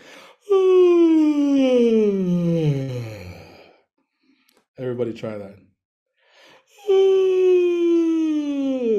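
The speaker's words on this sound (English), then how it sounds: "So let's do a yawn. Like you're alone in your room and it's the biggest, ugliest yawn." A big, exaggerated vocal yawn during a singing workshop, a long sliding groan that falls in pitch, followed by shorter yawning sounds, with a brief spoken line between them.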